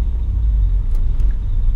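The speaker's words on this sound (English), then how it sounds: "My APU unit is currently running." A truck's auxiliary power unit running, a steady, loud low-frequency engine rumble and drone that continues without pause, with no voices.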